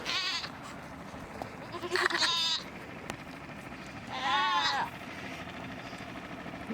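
Goats in an Arizona yard bleat loudly, with two wavering cries a couple of seconds apart and a brief call at the start, over a low background rumble.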